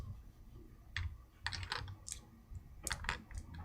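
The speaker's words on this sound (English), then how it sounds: "I like the sound of the dice going in the boards." Dice drop into slots on a board for the SolForge Fusion game, giving several sharp plastic clicks and clatters in small uneven bursts, close and fairly soft against a quiet background.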